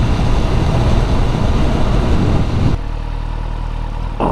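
A vehicle engine being ridden at about 20 mph roars loud and close with steady rushing noise, then drops to a lower, smoother drone partway through.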